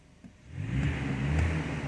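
A 2019 VW Passat 2.0 TDI diesel estate with a DSG automatic gearbox revs up once from idle, its engine note rising and holding steady, fairly faint and heard alone.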